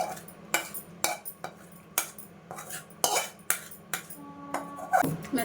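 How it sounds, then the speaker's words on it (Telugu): Tomato chutney pounded in a stone mortar, a series of sharp, evenly spaced knocks roughly every half second, close and clear with no talking. "మెత్తగా పచ్చడి దంచేద్దాం"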